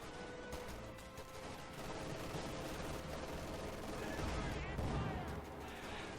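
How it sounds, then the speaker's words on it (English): Battle gunfire from a Panzer IV tank in Company of Heroes 2, a dense, continuous wash of shots and explosions heard faintly in the mix with no clear single blast standing out. "Nice shot by the Panzer IV."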